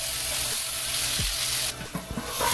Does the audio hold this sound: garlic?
yes